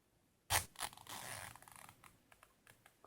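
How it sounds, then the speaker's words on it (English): A zipper on a handmade flower-pattern change purse is pulled open in one quick, close rasp, followed by softer intermittent scratches and small ticks of handling. "we need to open the zipper."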